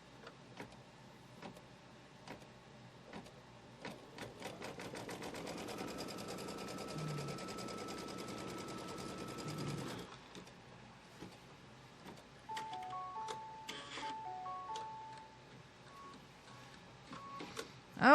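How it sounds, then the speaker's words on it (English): An embroidery machine sews a tack-down line across quilt fabric, a rapid steady mechanical stitching for about ten seconds that then stops, leaving quieter clicks and a few soft electronic beeps, near and fairly quiet. "now it's going to stitch a tack down line for this fabric from here all the way over"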